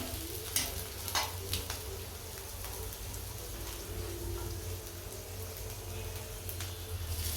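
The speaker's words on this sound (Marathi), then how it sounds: "बटाटे चांगले लाल परतून घेतलेले आणि ह्याच्यामध्ये मी टाकते आता मी साबुदाणा" Potatoes and sabudana stir-frying together in a pan, a dense crackling sizzle like light rain with occasional stirring scrapes, steady and fairly quiet throughout with no voices.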